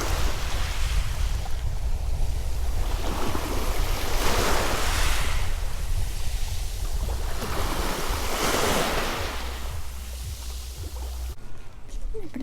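Sea surf rolling onto a pebble beach in Abkhazia, loud repeated wave surges every few seconds with hiss and wash, heavy wind rumble on the microphone underneath.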